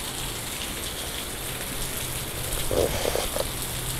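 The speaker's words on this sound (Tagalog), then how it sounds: "lalong lumakas ang uwan." Heavy rain pours down outside a home as a street floods, a dense, steady hiss of drops drumming on surfaces, loud and unbroken throughout.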